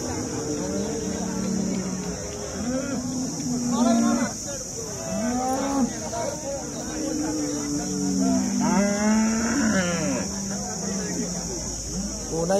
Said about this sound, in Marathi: इथे एक चांगली गाय आहे